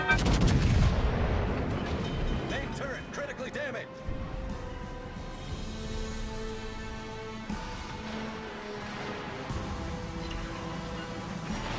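Heavy battleship guns from the USS Alabama boom in World of Warships Legends, several loud deep blasts with long rumbling tails over a steady music and engine bed.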